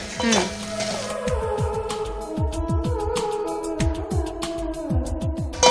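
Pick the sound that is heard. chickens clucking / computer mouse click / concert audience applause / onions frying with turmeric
onions frying with turmeric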